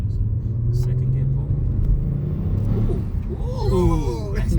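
Kia Stinger pulling hard in second gear, a deep engine rumble building under the cabin, with occupants chatting and exclaiming over the noise.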